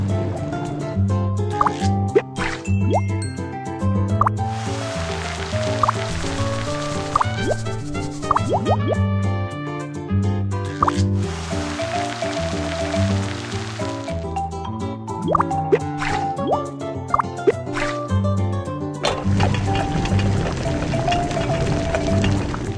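Cartoonish cooking sounds from a children's game as fish soup is made in a pot: repeated bright drips, plops and squishy liquid pops over a bouncy background melody, steady for over twenty seconds.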